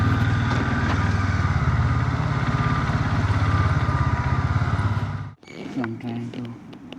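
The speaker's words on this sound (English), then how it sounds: "So finally I reached to Hyderabad with my bike." A Bajaj Dominar 400 motorcycle engine runs steadily close by with a throbbing, pulsing note, then cuts out abruptly near the end, followed by a voice speaking.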